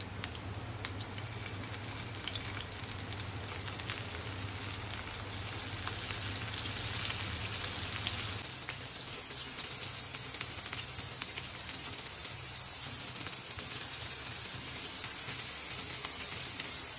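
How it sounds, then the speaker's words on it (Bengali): Medium-sized prawns fry in hot oil for a Bengali chingri fry, a constant close crackling sizzle that swells slightly midway and stays steady, with no one speaking. "তেলটা কিছুটা গরম হয়ে এলে এতে আমি এক এক করে মাছগুলোকে দিয়ে দিব।"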